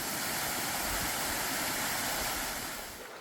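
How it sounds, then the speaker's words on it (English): A waterfall at a gold prospecting spot in Maine, heard as a steady, loud broadband rush of falling water that holds constant before easing slightly at the end. "So let's see what the waterfall delivers. Here's the last shot of it."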